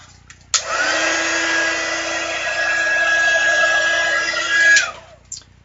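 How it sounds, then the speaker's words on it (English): A heat tool blowing hot air over glitter on heat and stick powder for a card, a steady whirring roar that starts abruptly, holds for about four seconds with a faint whine, then cuts off. "we want to heat this back up once more just to make sure the glitter is nice and stuck into the heat and stick powder"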